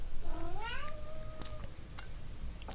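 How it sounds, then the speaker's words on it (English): A pet cat named Nico meows in a long, rising then level call, heard close up over a low background hum, followed by faint clicks. "It's our cat."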